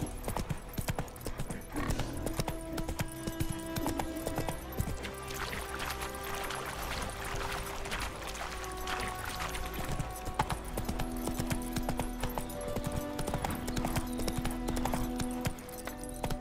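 A horse gallops in The Witcher 3, its hooves beating in a steady, fast rhythm with faint water-like sounds behind, loud and continuous throughout.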